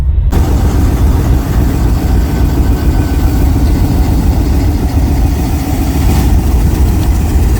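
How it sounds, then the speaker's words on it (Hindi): Two train locomotive engines idle at a station, a loud, steady low rumble that runs unbroken from start to end with no voices over it. "पीछे जो है ना वो इंजन 2 खड़े हुए और वो स्विच ऑन है, दोनों स्टार्ट है।"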